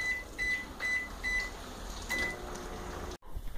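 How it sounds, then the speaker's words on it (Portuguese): A home microwave oven hums steadily while heating a bag of popcorn, with a series of short, even electronic beeps at the start and another near the middle, then a sudden thump as it stops. "E colocar no micro-ondas somente 4 minutos"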